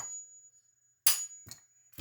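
A steel hammer strikes a driver tool set on a part of a QT50 engine during teardown, giving three sharp metallic knocks about half a second apart, the first loudest, close up with no talk.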